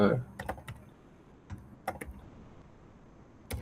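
Keys on a computer keyboard are struck in a few scattered, crisp taps with pauses between them, close and fairly quiet.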